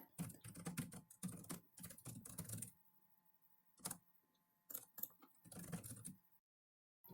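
Computer keyboard typing in quick bursts of close, crisp keystrokes, pausing briefly mid-way before another run of keys.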